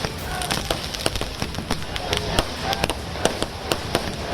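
Fireworks burst at a street celebration at Rajiv Chowk, where a crowd has gathered before the tricolour flag. Sharp cracks and pops come in a rapid, irregular series over a dense crackling wash, with faint crowd noise beneath.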